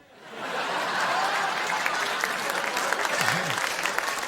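Studio audience applauding during a late-night talk show stand-up set, a steady dense wash of clapping that swells in within half a second and holds loud throughout, with no talking over it.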